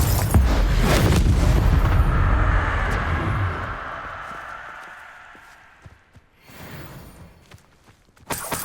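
A Confringo blasting spell in Hogwarts Legacy erupts in a loud, deep rumbling explosion that rolls out and fades over several seconds, followed by faint scattered clatter and a final sharp burst.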